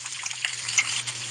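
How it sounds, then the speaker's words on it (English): Chorizo sizzles in a hot pan, a bright, crackling hiss with scattered pops over a low steady hum. "we hear the sizzling. Sizzling is always good."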